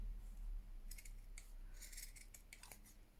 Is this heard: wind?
no